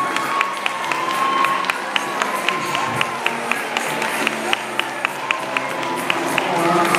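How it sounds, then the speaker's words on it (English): A crowd claps and cheers for a first-grade teacher called up at a live season-finale show, a continuous busy roar with a steady rhythmic tapping running through it and voices mixed in. "Let's give her a round of applause"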